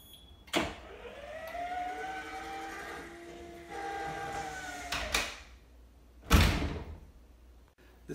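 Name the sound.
automated door closing, triggered via Alexa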